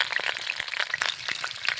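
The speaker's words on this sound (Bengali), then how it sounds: "ওই তেলেই আলু কটা ভেজে নেব।" Potatoes frying in oil left over from frying lentil cakes, a steady bright crackling sizzle with scattered small pops, close and fairly even, with no talking.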